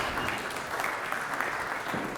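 Audience at an industry forum on virtual production gives a round of applause, a dense, even patter of many hands clapping that holds steady throughout.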